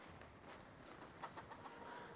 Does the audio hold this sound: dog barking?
no